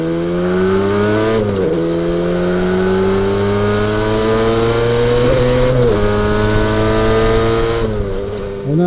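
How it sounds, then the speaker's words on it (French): A Yamaha RD350LC 350 cc two-stroke twin with YPVS exhaust power valves runs steadily up close, its buzzing, rising revs dipping briefly at three moments as the throttle is blipped or gears change, loud throughout with no talk. "On a un moteur de temps 350 cm3 bicylindre avec des valves à l'échappement YPVS"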